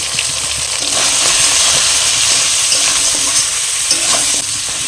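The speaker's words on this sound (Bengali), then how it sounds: "মিডিয়াম ফ্লেমে এবার চিকেনটা আমি 7-8 মিনিট কষিয়ে নেবো। তবে মাঝে মধ্যে কিন্তু এরকম নাড়াচাড়া দিয়ে নেবো" Chicken fries with salt, turmeric and red chilli powders in a pan over medium flame, a loud, continuous sizzle with steady stirring scrapes throughout, close and alone without talk.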